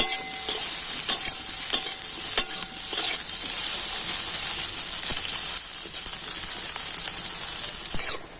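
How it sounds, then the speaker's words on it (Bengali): Soybean chunks fry in hot oil in a wok, giving a steady bright sizzle throughout, punctuated by repeated scraping clicks as a spatula stirs the pieces. "আর এবার আমি সয়াবিনটা দিয়ে দেব তেলের উপর এখন সয়াবিনটা খুব ভালো করে আমি ভেজে নেবো"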